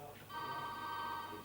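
An office telephone rings at Chesterfield Football Club in 1997, a steady electronic trill that holds for over a second before cutting off, heard fairly close over a low background murmur.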